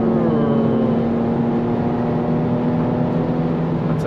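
A 2018 Chevrolet Camaro RS engine pulls hard under acceleration at highway speed, a loud, steady droning roar with a strong low tone heard from inside the car, no talking.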